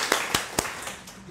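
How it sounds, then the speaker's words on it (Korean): Three sharp hand claps ring out, then trail off, in a church congregation during a Sunday worship service. "박수로 격려하겠습니다"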